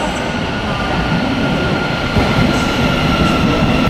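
A Thameslink passenger train at a station rumbles steadily, loud and close, with a low continuous roar and faint wheel noise, no voices.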